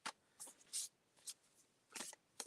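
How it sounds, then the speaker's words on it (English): Tarot cards being shuffled by hand, several short crisp riffling bursts spaced irregularly, close and fairly quiet with no talking. "Charlie, I'm shuffling for you now."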